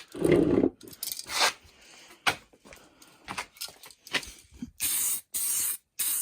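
An aerosol spray can lays a semi-gloss clear coat over decals on a Mazda Miata stereo part in short hissing bursts separated by pauses, with several sharp, loud sprays near the end.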